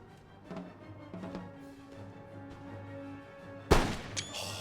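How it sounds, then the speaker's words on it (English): Line infantry in the Total War: Empire strategy game fire a musket volley: a sharp, loud crack of massed shots near the end, after a stretch of quieter battlefield ambience with scattered distant pops. "Let's watch this line infantry open fire here"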